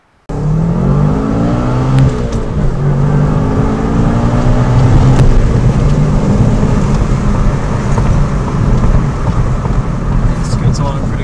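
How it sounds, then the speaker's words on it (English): Tommy Kaira Subaru WRX STI fitted with a 2.2 stroker kit, driven steadily with a continuous engine drone and road noise under shouted talk throughout. "help capture the Tommy Kaira WRX in action"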